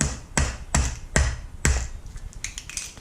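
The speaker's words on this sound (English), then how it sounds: "hitting a can, a spray paint can," Four sharp metallic blows of a hammer striking a spray paint can, evenly spaced and close, followed by lighter rattling taps.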